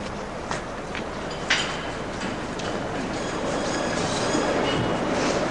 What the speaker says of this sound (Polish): No, mamy metro.